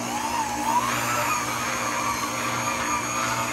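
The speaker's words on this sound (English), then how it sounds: "I'm going to turn the mixer down. Turn it on low speed." Electric stand mixer from GeekChef beating cream cheese and sugar for cheesecake batter, a steady close motor whir with a constant high whine running the whole time, no talking.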